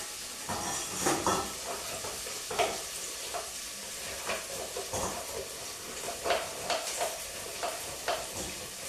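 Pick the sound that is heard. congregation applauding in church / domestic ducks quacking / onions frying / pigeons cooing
onions frying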